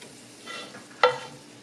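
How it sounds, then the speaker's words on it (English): Corned beef and cabbage tipped into a pot of cheesy ale soup, a short soft stirring rustle followed by one brief, sharp splash and sizzle, close and alone. "I'm adding in all of my corned beef and cabbage."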